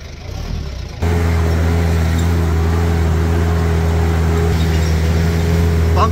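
Vehicle ride on a rough mountain road in Guatemala, steady engine drone with a strong low hum and rumble starting abruptly and holding close and loud throughout, with faint rattles over it.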